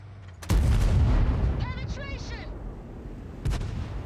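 Tank cannon fire in the game World of Tanks, with a loud booming shot followed by a metallic ricochet ring and a second, fainter blast near the end.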